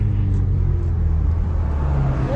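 A JB4-tuned Infiniti Q50 engine pulling under acceleration, heard as a steady, loud low rumble from inside the car with little change in tone.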